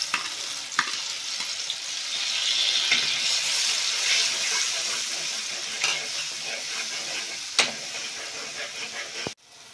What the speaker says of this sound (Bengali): এরই সাথে আমি পেঁয়াজ বাটাটা দিয়ে দিলাম।